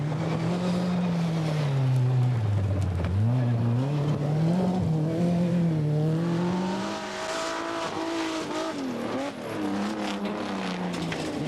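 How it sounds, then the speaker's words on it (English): Rally car, a Ford Sierra-era Group A entrant on the 1988 Cyprus Rally, blasting along a stage with a loud, rising engine note that drops and climbs again through gear changes, continuous and close throughout. "Fairly blasting his way over the first of the last 6 stages was Ericsson."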